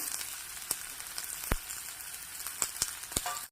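Chopped onions with mustard seeds and cumin frying in hot oil, a steady soft sizzle broken by a few sharp crackles and pops, close and quiet, with no talking.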